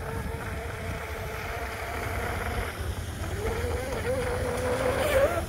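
A brushless-converted MRP Bud Light RC tunnel hull boat runs on water on a 2S battery, its steady motor whine rising in pitch near the end over constant water and wind noise.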